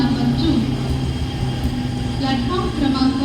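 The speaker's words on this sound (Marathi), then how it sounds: "धीमी लोकल थोड़ी ही देर प्लॅटफॉर्म क्रमांक 2 पर आ रही है।" A Mumbai slow local train arrives at Vikhroli railway station, a steady, loud rolling rumble of the carriages filling the platform, with station voices or announcements over it.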